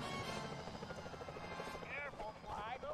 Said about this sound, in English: Careful, Fly. Those security choppers are bad news.